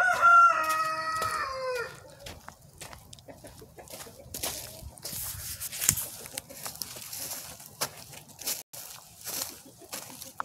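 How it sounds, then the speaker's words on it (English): A rooster crows loudly up close, then hens cluck and scratch around amid rustling and a voice talking nearby. "I still have a few chickens out"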